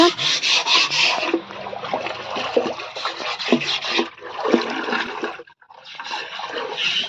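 A brush scrubbing the inside of a water tank during cleaning, steady rough rubbing strokes in bursts with a short pause near the end, close and fairly loud.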